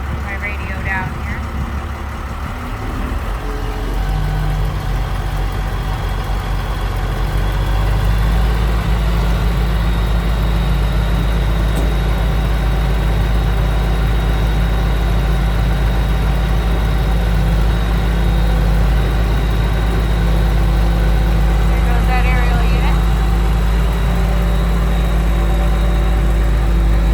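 A 1999 International 4700 truck with a 57-foot Altec aerial unit and a new motor runs steadily as its outriggers lower, a loud continuous low engine drone with hydraulic whine, and someone talks over it.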